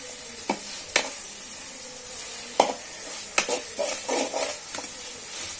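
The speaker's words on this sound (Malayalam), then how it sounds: "ഇളക്കിക്കൊണ്ടിരിക്കുകയാണ് മുളകും പൊടിയിലാണ്" Coconut rice mixed with chili powder stirred in a pan, with a steady sizzling hiss and a few sharp spoon scrapes and clacks, close by and alone without speech.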